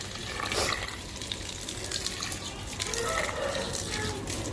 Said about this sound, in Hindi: अच्छे तरीके से पानी डाल देते हैं